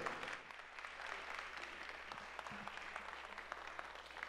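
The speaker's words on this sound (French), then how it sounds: "Un discours chaleureusement applaudi par l'assistance" Faint, distant applause from an assembled audience after a minister's speech at a diaspora event in Haiti, a steady, even patter of many hands with a low hum underneath.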